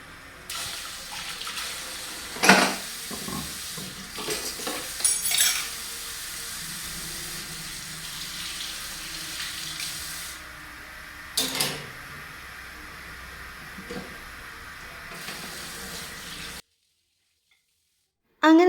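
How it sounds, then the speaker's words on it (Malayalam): Dishes and pots are washed at a kitchen sink under a running tap, with intermittent clatter and splashing over steady water flow, before the sound cuts to silence. "അതിൻ്റെ ഇടയിൽ കുറേ പാത്രമൊക്കെ കഴുകാണ്ടായിരുന്നു കേട്ടോ"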